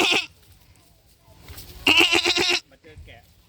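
Sheep and goats at Lopburi zoo bleat close by, with a wavering, strong bleat standing out in the middle, while people talk over and around the animal calls.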